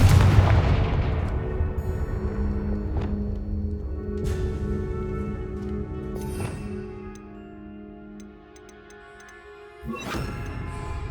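Incendio and Confringo fire spells cast in Hogwarts Legacy, a heavy booming blast followed by crackling impacts and ringing tonal effects, with another sharp burst near the end.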